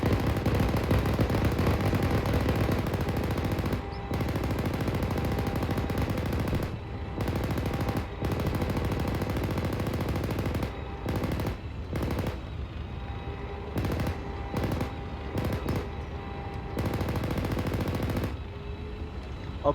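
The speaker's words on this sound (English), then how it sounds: "Gunner infantry 102 coax fire." Sustained bursts of a tank's coaxial machine gun firing during a video game combat training exercise, loud rapid automatic fire rolling almost continuously with brief pauses between long strings.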